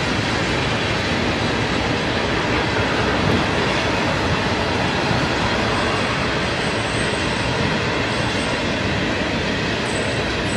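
A long freight train hauling military tanks rumbles steadily past at close range, with continuous loud wheel and car noise and occasional faint high squeals from the rails.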